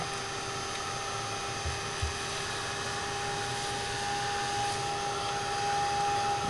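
A dryer blows a steady, even whoosh with a faint constant whine over a sprayed craft piece, running alone at close range without pause for several seconds.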